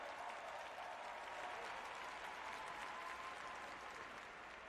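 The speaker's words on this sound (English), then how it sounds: "Give us a big round of applause to yourself." Steady applause from a large conference audience fills the hall, a dense, even wash of clapping that holds at the same level throughout with no break.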